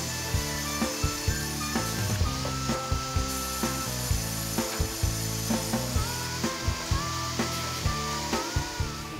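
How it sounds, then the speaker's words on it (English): A double cut band head rig at a lumber mill saws through a large log with a steady mechanical whine and a regular series of sharp knocks and clanks, loud and close, with no voices. "The machine we have here is a double cut band head rig."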